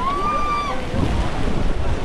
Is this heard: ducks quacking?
no